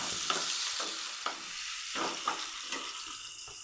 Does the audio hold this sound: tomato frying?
yes